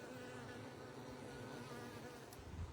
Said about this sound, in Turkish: İşte bir arılar çalışıyor.